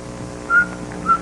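Someone whistles two short, clear, pitched notes of a tune, close and alone with no talking.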